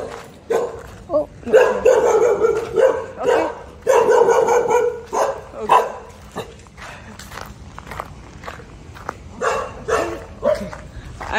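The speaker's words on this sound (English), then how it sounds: "Oh, the dog is barking at me." Dog on a city street in Phnom Penh, Cambodia, barking in repeated close, loud bursts with footsteps and street noise around it and a person talking at times.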